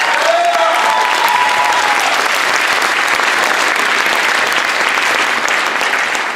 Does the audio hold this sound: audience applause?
yes